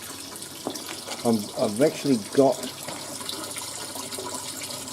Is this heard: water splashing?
yes